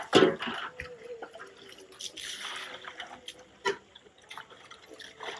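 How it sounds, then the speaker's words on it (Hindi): Buckets clunk and knock now and then amid rain, splashing and dripping water in a village, with a couple of louder thuds standing out from the wet background. "वो बाल्टियों की आवाज मेरे पापा कर रहे हैं।"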